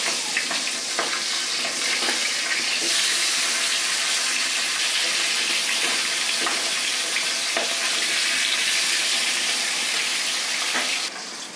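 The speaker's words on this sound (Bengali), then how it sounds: "এই গরম তেলে এখন আমি মাছটা ভেজে নেব" Pangas fish pieces fry in hot oil with a loud, constant sizzle and scattered crackles, close up, with a brief handling clatter near the end and no voices.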